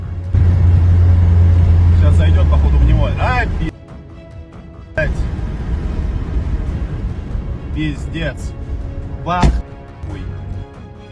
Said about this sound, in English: A Russian truck driver films the moment another Russian Ural truck is struck by a Ukrainian Hornet drone.